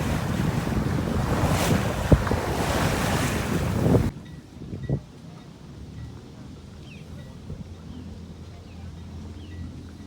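Wind buffeting the microphone with waves washing past a diesel sailboat at sea, loud and gusty for about four seconds, then dropping to a quieter steady wash of water.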